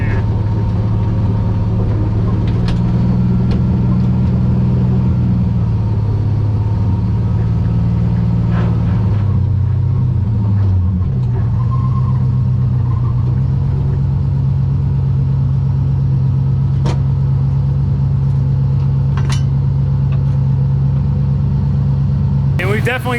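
A Mazda RX-7 FC, an abandoned car recently revived with electric power steering and a fresh tune, drives along. Its engine makes a steady, loud, low rotary drone throughout, with cooling fans and some rattling from the rear. A person talks over it.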